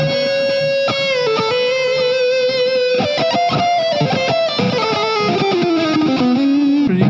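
Electric guitar played through a Positive Grid Spark practice amp on its super lead setting, a loud distorted lead tone with sustained notes and quick picked runs, bending and sliding downward toward the end.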